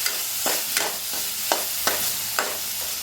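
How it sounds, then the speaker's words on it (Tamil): Chopped tomato and onion sizzling in a pan, stirred with a utensil that scrapes the surface in regular strokes about every half second over a steady frying hiss. "இப்போ இதோட தக்காளி சேர்த்துடலாம். தக்காளி வெங்காயம் நல்லா வெந்து குழஞ்சி வரட்டும்"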